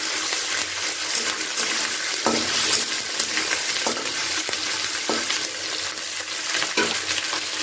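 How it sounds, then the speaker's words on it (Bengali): Washed dried loitta fish (shutki) is stir-fried in a pan, giving a loud, continuous sizzle broken by a regular series of spatula scrapes and strokes close at hand. "এবারে ধুয়ে রাখা শুটকি মাছটাকে দিয়ে খুব ভালো করে এটাকে নাড়াচাড়া করে নিচ্ছি।"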